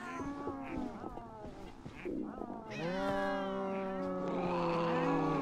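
A cat in the video game DayZ meows and caterwauls at close range with long, drawn-out, loud wails that grow stronger toward the end.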